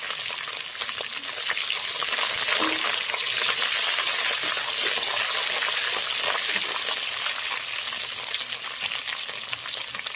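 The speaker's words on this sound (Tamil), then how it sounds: "நல்லா கருவேப்பிலை எண்ணெயில் நல்லா பொரியணும்." Curry leaves sizzle and crackle hard in hot oil, a loud, steady frying hiss with small pops and occasional stirring.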